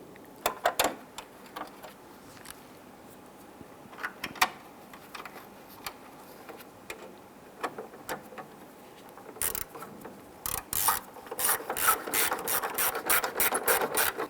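Rapid ratcheting clicks from a screwdriver snugging down the plastic corner light screws on a 1995–2001 Ford Explorer, with scattered clicks early on and a dense, steady run of close clicks in the final seconds.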